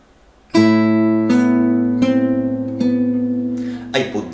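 Four plucked fingerstyle guitar notes from the fifteenth measure of a Kung Fu Panda piece ring out one after another at an even, slow pace, each letting the chord sustain, played close and clear with no talking.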